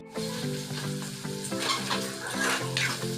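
Chicken cooking in a pan with onion, ginger and garlic spices gives a steady, close sizzle and crackle, with stirring and occasional clinks, over a low tonal background and no talking.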